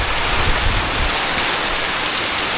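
Heavy monsoon rain in the Konkan pours down hard and steadily, a dense close hiss of drops drumming on surfaces with no voices over it.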